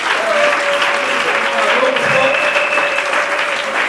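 A crowd at a Christian preaching gathering applauds a teacher and preacher with steady, dense clapping that holds at full strength throughout, while a thin sustained tone rings faintly over it.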